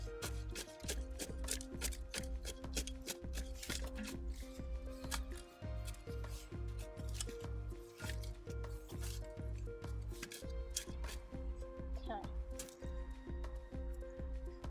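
Compost being mixed into garden soil while planting a bare-root tree, heard as a steady run of gritty scraping and rustling strokes, close and continuous throughout with no talk.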